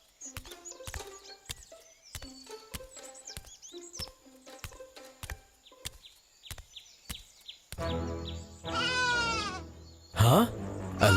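Sheep bleat in a cartoon Bible story scene, with a series of short, sharp, clicky calls followed by a louder, wavering bleat toward the end, fairly close and clear.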